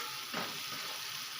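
Chopped tomatoes fry in a pan with a steady, close hiss of sizzling, broken by a brief scrape of stirring near the start.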